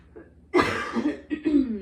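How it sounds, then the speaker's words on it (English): A single close, harsh cough bursts out, followed by a couple of smaller rough coughs and throat sounds. "Sorry I'm coughing so much."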